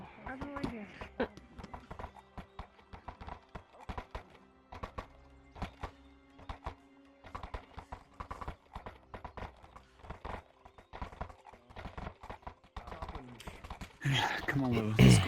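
Rhythmic video-game horse hoof clip-clops on a hard surface, steady walking pace with occasional pauses, ending in a louder, busier burst of noise.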